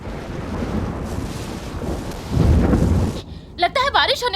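A heavy rumble of thunder rolls in ahead of rain, building to a loud close peak before fading. Wind noise runs beneath it, and a voice begins speaking at the end.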